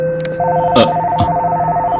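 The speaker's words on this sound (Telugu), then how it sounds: "ఉదయాన్నే ఫోన్ రింగ్ అవుతోంది" A telephone rings early on a Sunday morning, heard as a repeating electronic ring tone with steady pulsed beeps running through the whole stretch, fairly loud and close, with a couple of brief knocks in the background.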